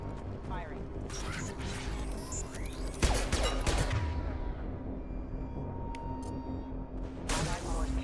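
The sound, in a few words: gunfire in the video game Mass Effect 2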